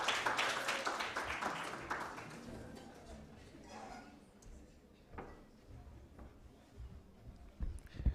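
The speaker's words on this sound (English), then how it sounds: "Let's give him a round of applause as he comes." An audience at a university moot court competition final applauds a speaker coming up to present awards, the clapping loudest at first and then thinning into scattered claps, thumps and faint voices.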